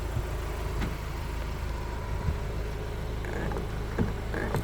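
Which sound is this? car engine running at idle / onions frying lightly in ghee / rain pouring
car engine running at idle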